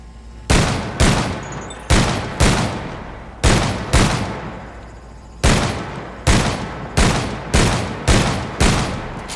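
Rapid paired pistol shots from two handguns in the sci-fi shooter Dead Space 3, loud sharp bursts fired in quick doubles with short pauses between volleys, each crack trailing a brief echo; no talking.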